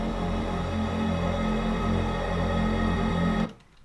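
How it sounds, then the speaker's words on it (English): Dark background ambient texture from a dubstep sample pack: a dense, steady droning wash with a low sustained tone and hissy upper layers, loud and unbroken before cutting off sharply near the end. "Really great dark background ambient sound"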